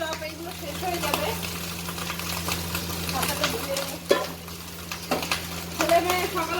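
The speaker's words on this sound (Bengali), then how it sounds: "ভাত ভেজে দিচ্ছি" Rice being fried and stirred in a pan for a home vegetarian breakfast: steady sizzling with repeated spatula scrapes and clinks against the pan over a constant low hum, close up.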